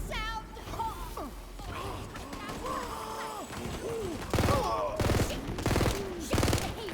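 Video game gunfire in Tiny Tina's Wonderlands, bursts of rapid shots that grow louder toward the end, mixed with character voices and game sound effects.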